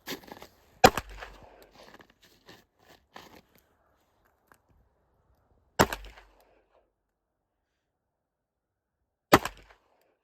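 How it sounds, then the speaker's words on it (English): Three sharp pistol shots from a CZ P07 firing factory 9mm ammunition, spaced several seconds apart, each a loud crack with quick decay, the first followed by faint clicks and handling noises. "So the first gun he's shooting is the P07."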